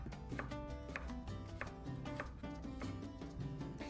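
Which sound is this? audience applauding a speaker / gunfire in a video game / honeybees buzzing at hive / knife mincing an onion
knife mincing an onion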